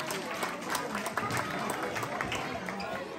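A crowd at a Bangladeshi community Eid reunion and Pohela Boishakh celebration claps steadily for the mothers and sisters present, a dense, sustained patter of hands with talk mixed in.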